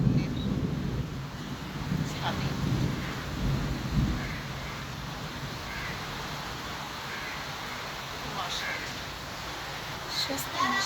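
The last rain before winter falls outdoors by a balcony as a constant wash of hiss, with low thunder rumbles early on, crows cawing in the distance and occasional wind buffeting.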